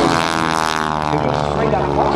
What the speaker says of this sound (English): Remember, very, very underpowered compared to most other aerobatic airplanes.